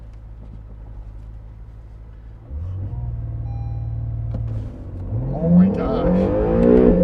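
A 2019 Acura NSX idles with a steady low rumble, then its engine note jumps louder and climbs into a hard, rising acceleration run using launch control, with a startled voice exclaiming over it.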